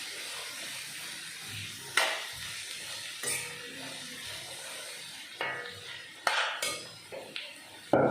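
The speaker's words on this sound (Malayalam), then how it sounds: "ഇച്ചിരി ഉള്ളി വഴണ്ട് വരാൻ വേണ്ടിയിട്ട് ഉപ്പ് നമുക്ക് മിക്സ് ചെയ്ത് കൊടുക്കാം" Chopped shallots and onions being stirred with salt in a pan, a metal spoon scraping and clinking against the pan in sharp intermittent knocks over a faint low sizzle, close up with no talking.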